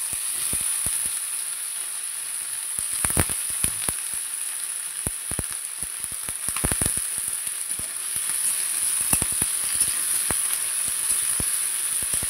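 Potato and pumpkin frying in a pan for a curry, a steady close sizzle broken by frequent sharp crackles and pops throughout.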